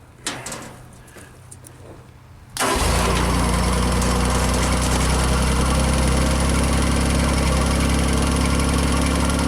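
A JLG baby scissor lift engine cranks and catches about a third of the way in, then settles into a loud, steady, close idle with a constant drone.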